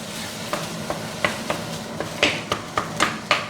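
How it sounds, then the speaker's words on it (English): Taco filling sizzles steadily in a pan while a spoon stirs and scrapes it, with about a dozen sharp clacking strokes in an uneven rhythm over the constant frying hiss, close and moderately loud. "we're going to listen for it to sizzle"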